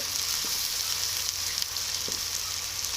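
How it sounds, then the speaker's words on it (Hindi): Spices frying for aloo qeema, a steady hissing sizzle close by with a couple of faint stirring knocks, no voices. "मसालों की अच्छी तरह भुनाई करेंगे"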